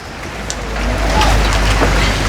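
Rain falls steadily as a dense, even hiss that swells slightly after the first second, with no voices.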